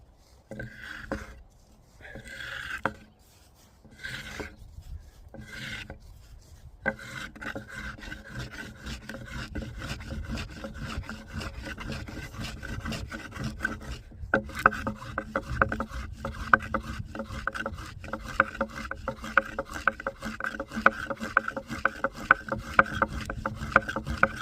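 Nettle fibres are rolled under a roller, giving a steady rough rubbing and scraping. It starts in short separate strokes and then turns into continuous close friction noise with faint clicks.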